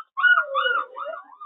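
A kennel puppy whimpering up close, a high, wavering whine that rises and falls over a second or so with a short yip-like break, loud and alone.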